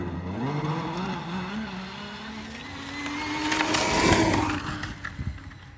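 A Tesla Model 3 Performance and a Taiga electric snowmobile launch side by side in a drag race: a rising electric whine climbs in pitch, joined by a louder rushing, clattering surge that peaks toward the end.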